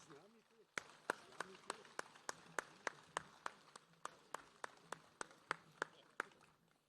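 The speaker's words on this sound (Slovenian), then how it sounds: "dajmo še en aplavz za gospoda župana" Crowd clapping in steady unison for the mayor at an outdoor May Day gathering on Rožnik, about three sharp claps per second, loud and close, with a brief voice before it begins.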